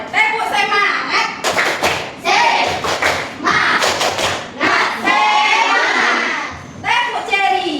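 A primary-school class of children claps a rhythmic spirit cheer, sharp clusters of claps and thumps alternating with chanted voices, loud and close in a classroom.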